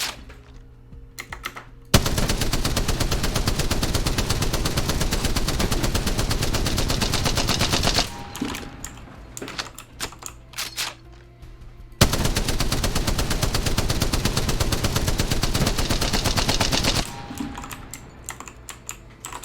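A scoped gun fires in the Apex Legends video game in two long bursts of rapid shots, each lasting about five seconds and separated by quieter gaps. The shots are loud, dense and close.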